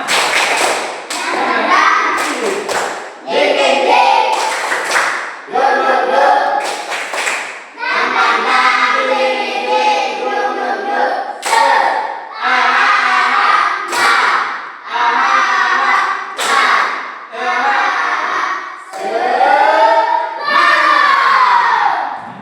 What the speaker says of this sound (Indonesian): Kita tepuk tangan dulu untuk kita semua.